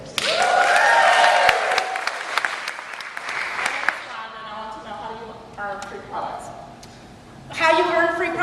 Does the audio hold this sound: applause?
yes